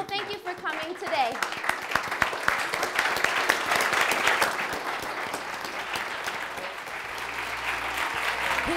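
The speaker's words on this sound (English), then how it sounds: "I would like to give a big round of applause for you, the audience." Sustained, dense applause from an audience at an opera picnic event continues steadily for several seconds, with faint voices mixed into the clapping.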